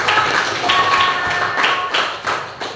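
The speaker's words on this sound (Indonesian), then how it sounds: "Tepuk tangan untuk kelompok 3." Short, loose clapping from a small school class for a student group, a handful of uneven claps at close range with some faint voices mixed in.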